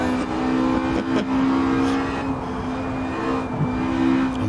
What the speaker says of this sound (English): I can still hear that Porsche.